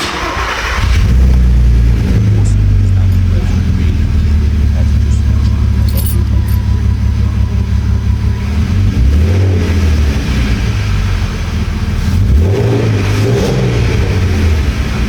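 An Audi TT 3.2 VR6 engine, freshly serviced after a bad idle, runs with a loud, close, steady idle, then rises in a few quick revs and settles back down, with keys jangling and a voice speaking over it.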